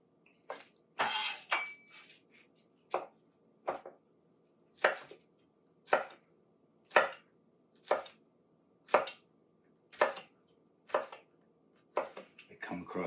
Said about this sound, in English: I just chop it like this until it's finely chopped